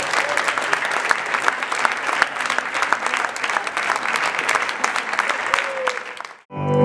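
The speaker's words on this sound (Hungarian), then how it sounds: "hatalmas tapsot neki!" Theatre audience at a Night of Theatres evening in a film-theatre breaks into loud, sustained applause, dense hand claps running steadily for several seconds before cutting off abruptly at the end.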